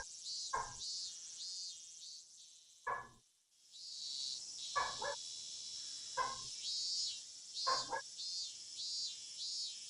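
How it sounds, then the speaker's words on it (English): A dog barks five times at spaced intervals over a shrill, continuous cicada drone in the visual novel Higurashi, each bark short and fairly close. "Fucking dog barking."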